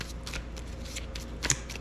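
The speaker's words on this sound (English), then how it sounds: "So we give them a shuffle here." A deck of game cards for a naval wargame is shuffled in quick riffling bursts, close and crisp, with a sharper snap near the end and no talk.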